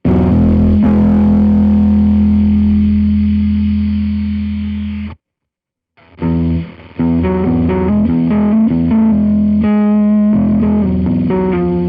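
An electric guitar plays through a PolyEffects Beebo pedal set to clip hard, giving a loud, buzzing, heavily distorted sustained chord. After a brief silence come choppier distorted notes.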